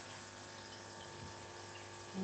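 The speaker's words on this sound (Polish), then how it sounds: "spuszczę sobie trochę wody," Water drained from an aquarium runs steadily, a continuous soft gush with a faint pump-like hum, close by and unchanging throughout.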